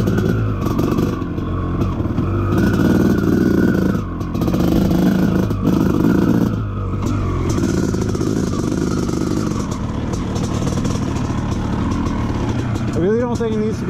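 A KTM motocross bike running on a track in second gear, its engine droning loudly and steadily with a rising rev near the end, under a voice.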